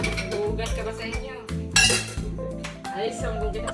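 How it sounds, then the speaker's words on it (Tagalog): Plates and dishes clinking and clattering as they are washed, close and fairly loud, with irregular knocks and chinks throughout a sleepover, voices chatting in the background. "so magugas na kami ngayon ng pinggan"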